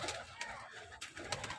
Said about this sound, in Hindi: तो ये हैं जी कबूतर माशाल्लाह।